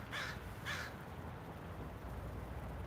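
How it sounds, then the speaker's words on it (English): Crows cawing outdoors, two quick harsh caws heard faintly at a distance over steady wind-like background noise, no talking. "Lots of birds out."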